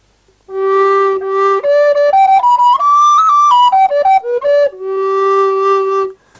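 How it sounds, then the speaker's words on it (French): A Renaissance flute plays a clear, pure melody that steps up and then back down, each note distinct, ending on a long held low tone. "Donc ça, c'est un son de flûte Renaissance."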